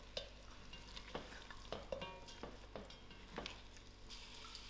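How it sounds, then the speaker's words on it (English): Masala spices frying in a pan for goat curry, a steady soft sizzle with intermittent stirring scrapes, faint and close, with no talking. "So now I'm going to drop in all my masalas. Allow this to fry for a few seconds."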